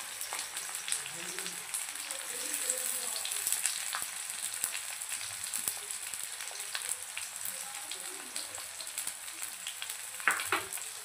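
Bay leaf, onion and two green chillies frying in hot spiced oil for a chicken yellow rassa, a steady close sizzle with crackling and occasional stirring, no talk.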